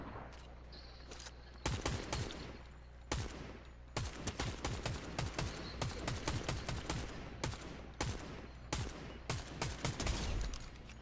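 Rapid gunfire in a Fortnite squad match, with loud, dense volleys of sharp shots and bursts repeating steadily throughout and no voices.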